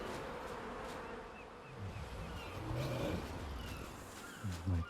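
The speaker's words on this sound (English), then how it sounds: "And my compost bin's buzzing away." Insects buzzing around a compost bin in the video game ARK, a faint continuous drone with a few louder low buzzy swells near the end.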